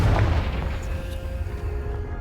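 Confringo fire spell blast in the video game Hogwarts Legacy: a loud, booming burst at the very start that rolls off into a low rumbling tail, with no voices.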